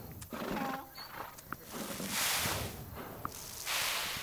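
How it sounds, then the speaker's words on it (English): American paint horses in the Farm Together farming game give soft whinnies and snorts with hoof sounds, fairly quiet over a faint ambient game background. "These are some new horses we put here as well."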